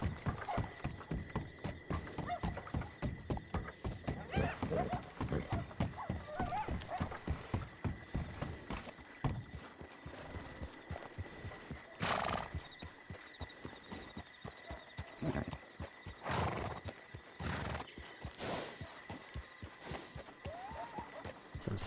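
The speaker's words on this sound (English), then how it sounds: "There's definitely horses here." Horse hooves clip-clop in a steady, fast rhythm for over twenty seconds, fairly faint, with a few louder knocks toward the end and no talking.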